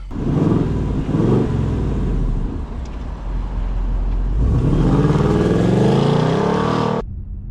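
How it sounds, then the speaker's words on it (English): A 2024 Ford Mustang GT RTR engine rumbles and revs while driving in normal exhaust mode, the exhaust note rising and falling in loud, close surges. "I'm going to kind of see how the exhaust sounds in normal."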